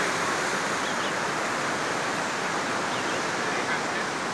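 The Cravo Sur river rushes beneath the Perico bridge, giving a steady, broad roar of flowing water that holds even and loud throughout with no voices.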